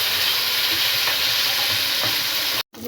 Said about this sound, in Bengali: মশলাগুলো ভাজা হয়ে গেছে, এখন মাছগুলো দিয়ে দিলাম।